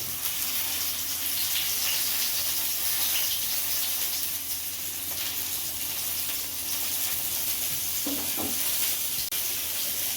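Pumpkin leaves frying in a pan with mustard, a loud, dense sizzle and hiss that holds steady from start to finish, with a short stirring or voice-like sound toward the end.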